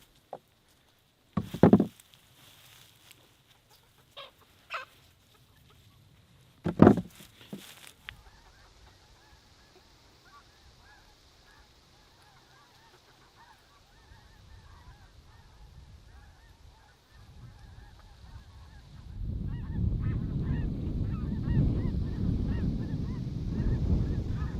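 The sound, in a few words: geese honking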